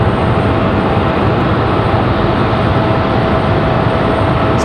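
A Boeing 767 airliner lands at Raleigh-Durham airport, heard as a loud, continuous broadband jet roar with a faint steady whine, filling the whole stretch with no voices.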